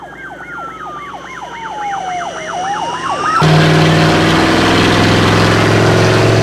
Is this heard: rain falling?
no